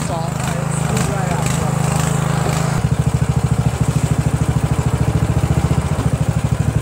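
Craftsman lawn tractor with a Briggs 18.5HP engine idling after a carburetor issue, starting slightly uneven before settling into a steady, loud, close throbbing idle with a regular pulsing beat.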